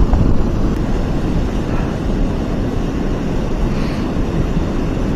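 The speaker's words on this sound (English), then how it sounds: "when it's a little cold and windy" Loud, steady rumbling buffet of cold wind hitting the microphone beside the Fox River dam in South Elgin, continuous throughout with no pauses.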